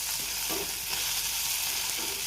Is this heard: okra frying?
yes